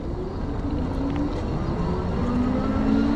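Aniioki AQ177 Pro Max 52V e-bike accelerating on throttle only, its hub motor whine rising steadily in pitch over a constant wind and road rumble, continuous and moderately loud.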